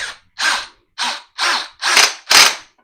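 A small screw is driven into a hole in a wood rack with a power driver, six short buzzing bursts in a row, each louder than the last, close and alone.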